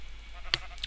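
Brief, faint sheep bleat in Minecraft, a single short call with a second softer one just after, heard alone against a quiet background.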